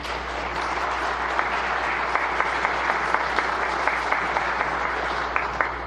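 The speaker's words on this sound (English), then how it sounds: "some claps over here" A chamber audience at Michigan Governor Gretchen Whitmer's 2025 State of the State address applauds steadily, a broad, even wash of clapping with a few sharper individual claps standing out near the front.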